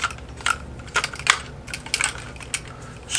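Arms of an Autel Evo drone being folded in produce a series of close plastic clicks and clacks at an irregular rhythm, each sharp and fairly loud.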